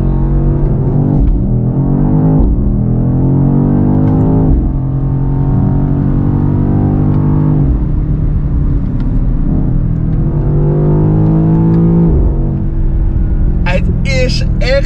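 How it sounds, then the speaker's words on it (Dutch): A BMW XM Label Red SUV's automatic gearbox drops through gears, its engine blipping and revving in several rising and falling surges, loud and close, with someone talking over it throughout. "Hoe dit ook terugschakelt in zijn automatische versnelling."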